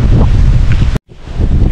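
Strong gusts batter the microphone on Bohol island during Typhoon Kristine, a loud roaring rumble near the sea that cuts out abruptly for a moment before returning.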